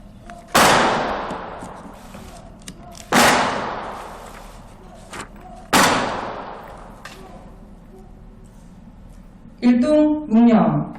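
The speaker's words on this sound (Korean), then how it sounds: "의장대 조총 발사" An honor guard fires a ceremonial rifle salute outdoors at a memorial ceremony for a Korean independence activist: three sharp, loud volleys spaced a few seconds apart, each with a ringing echo, then a voice speaks briefly.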